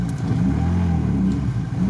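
A Lada Niva off-roader without low-range gearing revs while stuck in mud. Its engine holds a steady, strained drone for a couple of seconds, close and loud, with no speech.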